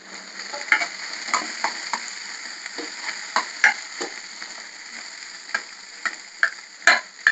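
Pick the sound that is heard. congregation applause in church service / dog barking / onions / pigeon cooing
onions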